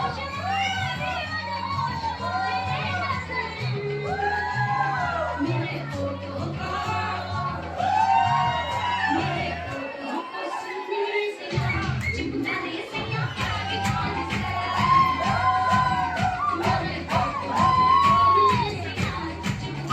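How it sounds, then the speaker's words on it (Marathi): A crowd cheers and shouts noisily at a dance competition in Shimla as prize winners gather on stage, with rhythmic music thumping beneath the clamor throughout. "स्टेजवर आता पारितोषिक घेण्यासाठी सगळे कलाकार जमलेले आहेत आणि जल्लोष"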